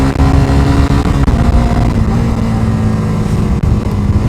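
Suzuki GSX-R 125 ABS motorcycle being ridden and leaned into a turn, its small engine giving a loud, steady drone with a constant low hum and wind rush throughout, no talking.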